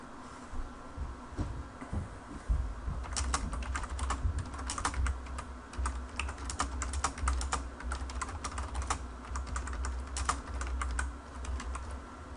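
Continuous clatter of keystrokes on a computer keyboard while Arduino code is typed, irregular bursts of close, crisp key taps with brief pauses over a low room hum.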